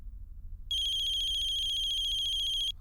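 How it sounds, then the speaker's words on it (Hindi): A mobile phone ringtone trills loudly and steadily for about two seconds, a repeating electronic ring heard alone in a quiet room. "देख यार, पहली बार मैडम का फोन आ रहा है"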